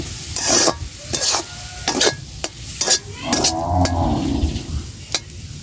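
Saag greens fry in a hot pan while a utensil stirs and scrapes them in repeated strokes. A steady oily sizzle runs underneath the scraping, close and moderately loud.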